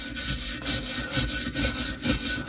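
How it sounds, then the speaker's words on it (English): A small brass brush scrubbing soot out of a Chinese diesel heater in its yearly service, close rhythmic rasping strokes back and forth, about five or six passes, with no talking. "Got a small brass brush here I'm just going to use just to clean this out. I'm just going to gently rub that over"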